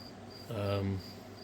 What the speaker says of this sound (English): I'm so tired of listening to these freaking crickets